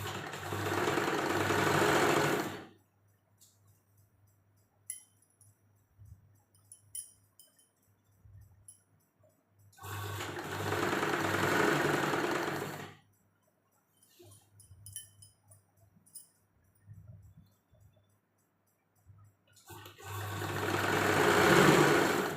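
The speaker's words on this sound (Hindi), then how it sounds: "इसको घुमाते जाएंगे और सिलाई लगाते जाएंगे।" A sewing machine stitches the sleeve of a size 38 kurti in three separate bursts of whirring. Quiet pauses fall between them, with faint handling sounds.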